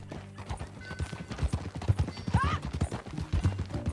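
Horse hooves clip-clop in a steady, close rhythm in the video game Red Dead Redemption 2, with a brief whinny-like cry partway through and faint background sound underneath.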